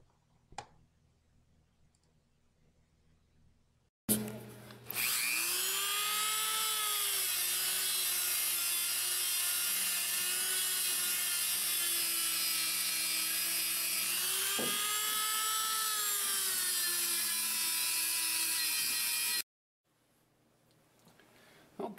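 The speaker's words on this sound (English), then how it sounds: "me over at the CNC Shark with the piece chucked up and with the half inch ball nose installed and ready to go" CNC Shark router cutting with a half-inch ball nose bit, a steady, loud whine with strong harmonic tones that holds for about fifteen seconds, dips in pitch briefly partway, then stops abruptly.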